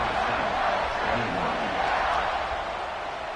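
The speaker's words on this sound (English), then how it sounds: "this crowd is feeling themselves after that last drive" A packed football stadium crowd roars in a steady, dense wash during a kickoff, loud and unbroken throughout with no single voice standing out.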